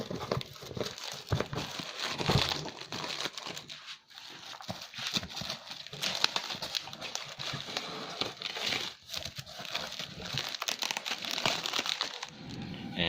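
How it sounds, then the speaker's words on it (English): Plastic covering being pulled off and crumpled, a steady crinkling and rustling that runs continuously with scattered sharper crackles, close and fairly loud. "Okay, let's remove the plastic covering."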